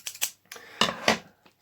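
A pair of scissors snips through Manchester City memorabilia packaging in a few quick, close, crisp cuts with brief pauses between them, in a quiet room.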